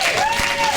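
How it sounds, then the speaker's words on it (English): A short burst of audience applause, dense clapping mixed with crowd noise and hollering, filling the moment at close range. "That's pretty good clapping and hollering"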